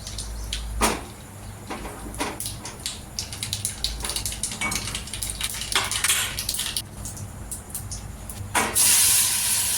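Oil heating in a cooking pan on a home kitchen stove is stirred, bringing scattered clicks and scrapes of a utensil over a low steady hum, with a sizzling hiss swelling loudly near the end.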